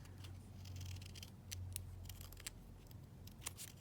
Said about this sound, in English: So I'm just going to cut this down here.